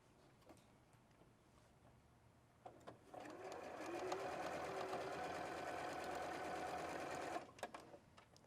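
A sewing machine runs steadily for several seconds, stitching quilt pieces right sides together along a quarter-inch diagonal seam, with softer clicks and handling noises before and after the run.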